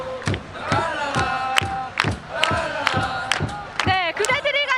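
FC Seoul supporters at a stadium before a 2007 friendly against Manchester United, a huge crowd chanting and roaring with sharp rhythmic beats every half second or so, loud and close from within the supporters' stand.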